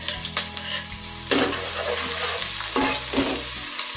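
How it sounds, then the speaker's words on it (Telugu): Chopped onions and green chillies sizzle loudly in hot oil with mustard seeds for a brinjal fish curry, a steady frying hiss broken by scraping stirs and louder bursts as the pan is worked, with no voices. "తరిగి పెట్టుకున్న ఆనియన్స్, పచ్చిమిర్చి కూడా దాంట్లో వేసేసుకోవాలి."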